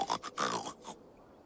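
A pig grunts in Assassin's Creed Valhalla, giving a few short, close, rough grunts in quick succession before dropping away to quiet.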